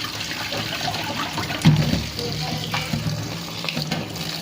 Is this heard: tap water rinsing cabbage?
yes